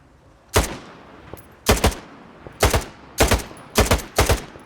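Six sharp gunshots from a firearm in the shooter game Stalker 2, fired one at a time at uneven intervals, loud and close with short echoing tails and no talking.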